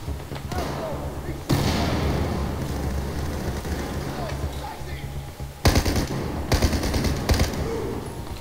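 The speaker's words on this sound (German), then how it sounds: "Geschossen werden darf nur im Notfall." Rapid machine-gun bursts and gunfire from the video game Battlefield 4, set in a China mission, loud and dense with sharp volleys near the end, mixed with game noise and occasional voices.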